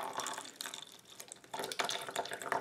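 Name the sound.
water poured from a squishy toy into a cup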